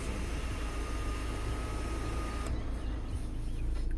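Inside a 2014 VW Passat Alltrack 130 kW, the panoramic sunroof motor gives a steady, even whirr that slides along and then stops abruptly, leaving quieter cabin hush.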